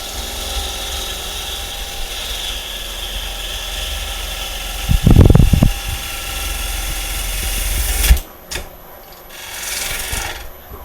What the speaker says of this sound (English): Now when I'm trying to get the shape of my bowl here, most of the time I'll use the scraper